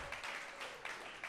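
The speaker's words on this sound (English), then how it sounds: "Please put your hands together for yourselves." A comedy show audience claps and applauds in a faint, distant wash of overlapping hand claps with a few slightly louder bursts, brief and continuous.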